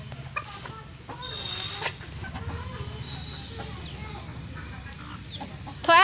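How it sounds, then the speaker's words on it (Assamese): Roosters cluck and call in a farmyard at dawn during Kati Bihu, with repeated short clucks and a sharp crowing burst at the end over a faint background hum. "এইকেইটা আমাৰ মতা মুৰ্গী গোটেইকেইটাই আহিলেও যুদ্ধ কৰি থাকিব"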